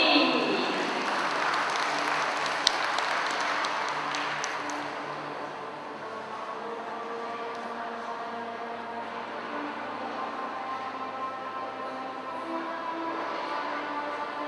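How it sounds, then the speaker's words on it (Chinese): An audience claps at a community college opening ceremony ahead of a qigong breathing demonstration, loud applause that fades over the first six seconds into a quieter room with lingering tones and a faint murmur. "请各位来宾给我们掌声鼓励"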